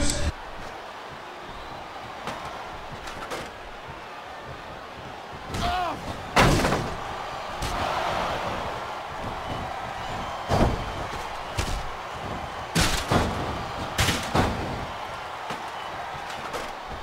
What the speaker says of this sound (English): And a big shot there, and Animal slams him down